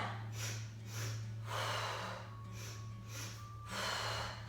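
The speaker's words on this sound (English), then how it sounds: "Inhale and exhale." Steady rhythmic breathing in and out during a mat Pilates workout, each breath audible as a soft close rush, repeating about every second over a low hum.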